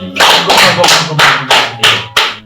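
A group claps together in six loud, regular bursts at a family gathering, like rhythmic rounds of applause. No one speaks.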